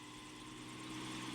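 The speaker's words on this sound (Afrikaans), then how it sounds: "Ja, maar nou, dis 'n helikopter, Heksie, nie 'n meeliepomp." A helicopter flying overhead, a steady whirring rotor and engine drone that holds even and fairly faint, slowly swelling slightly over a brief moment.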